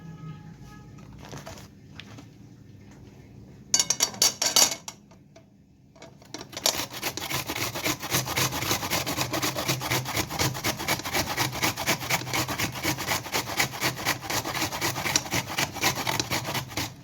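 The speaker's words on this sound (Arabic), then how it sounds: "عندي بقى بصلاية كده صغيرة هنبدأ نبشرها مع بعض" A small onion is grated by hand on a grater in a home kitchen, a steady rasping scrape of repeated strokes that starts after a few brief rubs and continues near and moderately loud without talk.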